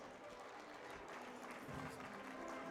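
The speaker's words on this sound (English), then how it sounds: "let's have another round of applause for all of our regional leaders" Audience at an awards dinner applauding regional leaders, a quiet, dense, continuous patter of clapping that carries evenly for the whole stretch.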